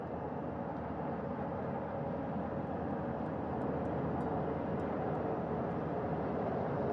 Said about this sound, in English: Second helicopter making its approach of the flight deck.